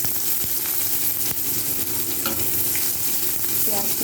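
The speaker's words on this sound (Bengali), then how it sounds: "ওই তেলের মধ্যে আমি 5 ফোড়ন দিয়ে দিলাম আর শুকনো লঙ্কা দিয়ে একটু হালকা করে ভেজে নিয়ে তারপর আমি দিয়ে দেবো পেঁয়াজ কুচি" Onions, panch phoron and dried chilli fry in hot oil with a dense, steady sizzle and crackle that runs throughout, close up, with occasional stirring scrapes and no voices.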